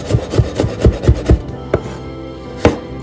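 Ginger is sliced thinly on a cutting board: five quick, even knife chops in a steady rhythm, then two slower single cuts, close and clear with no talking.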